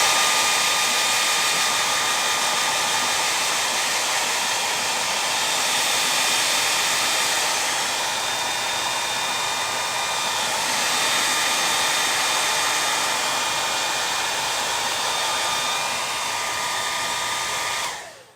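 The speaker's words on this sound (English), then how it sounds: "I'll hit this with a blow dryer." A blow dryer roars continuously at close range for nearly the whole stretch, drying a sunflower craft project, then cuts off abruptly at the end.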